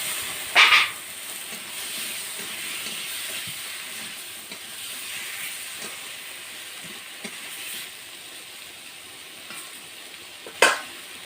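Long-cut potatoes dropped into spiced, well-fried masala for a sour-hot pangas fish curry, giving a steady close sizzle and hiss with a couple of brief louder spits, no voices.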